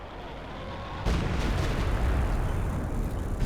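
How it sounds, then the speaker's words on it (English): Bombs strike a bunker in the Company of Heroes 2 strategy game: a low rumbling battle bed, then a sudden heavy explosion about a second in, followed by sustained roaring blast noise. "Pretty big scatter on those RNG bombs. There's a direct hit on that bunker."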